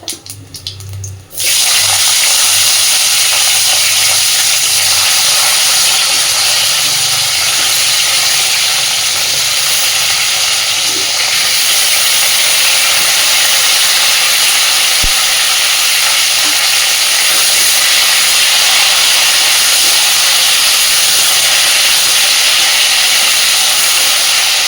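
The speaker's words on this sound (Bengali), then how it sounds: "এইবার কেটে রাখা আলু আর ফুলকপিগুলো দিয়ে দিচ্ছি।" Cut potatoes and cauliflower sizzle loudly in hot oil with dried red chillies and whole cumin, a steady dense frying hiss that starts abruptly after a brief quiet moment and continues throughout.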